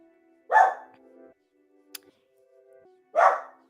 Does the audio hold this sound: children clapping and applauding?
no